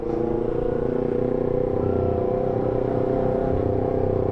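A Yamaha R25 motorcycle with a loud exhaust runs steadily close by, its engine note a continuous low rumble with no clear rev spikes, heard alone without voices.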